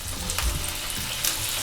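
Small sesame-filled glutinous rice balls pan-frying just after water is poured into the pan, giving a loud, steady hiss and sizzle with crackly spikes, close up and with no talking.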